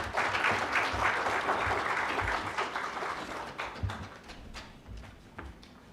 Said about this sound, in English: I just request and invite us to clap more for Mr. Mwonge